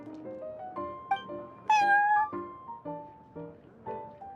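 Prince the cat from the Genius Invocation TCG video game lets out a rapid series of clear, tonal meows of varying pitch, with one longer, louder cry in the middle.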